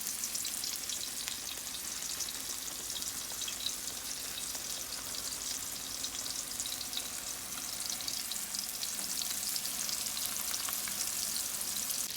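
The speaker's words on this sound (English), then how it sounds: "And we're gonna put this into the hot oil and fry these babies up." Grey snapper coated in semolina and flour fries in hot oil, giving a steady, dense sizzle with constant crackle and spitting that holds evenly throughout, with no voices.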